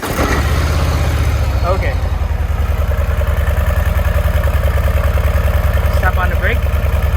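A Harley-Davidson Low Rider ST motorcycle fires up and settles into a loud, steady, loping idle with a close, even low-pitched pulse, while a person speaks briefly over it.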